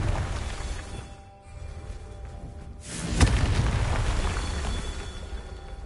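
In the Hogwarts Legacy video game, a Confringo spell bursts in a sudden loud explosive blast that follows a brief lull and then rumbles away under the game's ambient sound.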